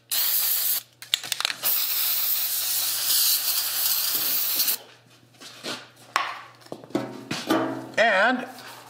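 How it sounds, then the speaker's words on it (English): A long, loud hiss of GAT anti-graffiti aerosol spray from a can onto Sharpie marks on brass lasts several seconds, followed by short rubbing and scraping sounds with a brief voice. "I can just spray it onto my Sharpie marks there."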